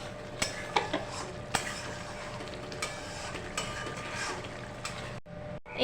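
Spiced masala with a pinch of sugar is stirred and fried in a pan for a sour rohu fish curry with taro, giving steady faint sizzling broken by sharp ladle clicks and scrapes against the metal.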